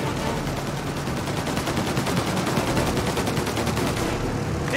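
Sustained rapid gunfire from the Mafia Definitive Edition video game, aimed at the engines of a plane about to take off; dense, continuous loud bursts fill the whole stretch with no talk.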